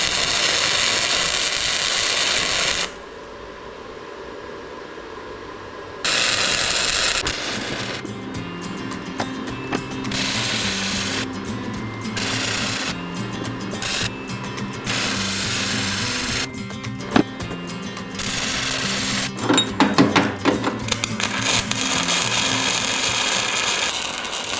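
Hand welding by a self-taught beginner repairing things on a homestead, a steady crackling buzz in bursts with short pauses between beads, close and fairly loud, with no talking.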